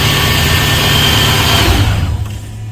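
A 25-year-old Lexus car sits idling, its engine giving a smooth, steady hum with a low, even tone, heard close up. Near the end the sound drops away and grows quieter.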